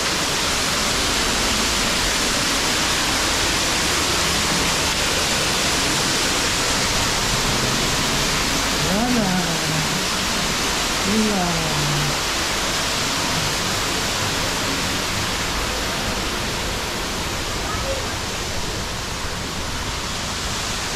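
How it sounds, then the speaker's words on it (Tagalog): A large waterfall at the National Orchid Garden in Singapore pours in a steady, broadband roar that fills the whole stretch without a break, with a couple of faint brief voice-like chirps rising above the rush near the middle. "So malaking waterfall doon, tapos may maliit dito sa gilid ng malaki eh."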